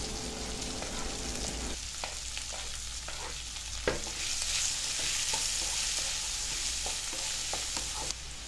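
Chopped onions fry with curry leaves in a pan for chicken kondattam, a steady close sizzle under repeated stirring and scraping strokes, with no talk.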